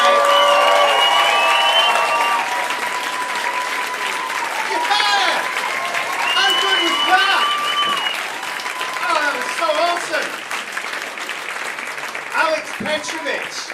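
Comedy club audience in Brighton claps and cheers after a stand-up set, a dense sustained wave of applause with whoops, while a voice talks over it throughout.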